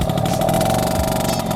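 A Yamaha Alfa II R two-stroke motorcycle runs loud and near, holding a steady buzzing rev throughout the short burst.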